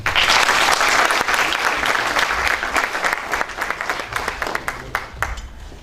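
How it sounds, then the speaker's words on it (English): A large crowd applauds at a national science innovation competition, loud and dense at first, then thinning into scattered individual claps before fading out. "Can we put our hands together and clap hands for God?"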